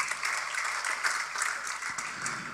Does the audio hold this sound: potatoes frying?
no